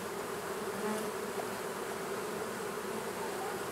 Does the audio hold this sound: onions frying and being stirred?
no